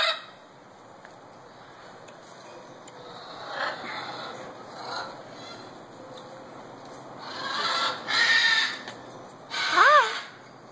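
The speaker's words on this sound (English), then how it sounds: "that's a parrot" A parrot at Jungle Island gives a few harsh squawks that grow louder toward the end, over a steady background of outdoor ambience.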